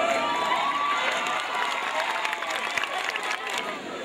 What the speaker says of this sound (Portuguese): Essas palmas aí é para Jesus, não são para mim.